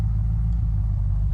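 A car in the survival game Unturned, a loud steady low engine rumble held close and constant for a moment, with no talk.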